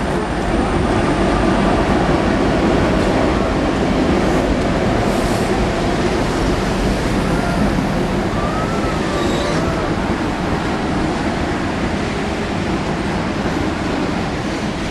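Greater Anglia train in the latest livery standing at a station platform on the line toward Ipswich, a steady loud rumble of idling engine and platform noise throughout, with a faint tonal whine rising briefly midway, no talk.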